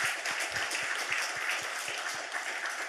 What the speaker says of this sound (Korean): 우리 박수 한번 하나님 영광에 오십니다.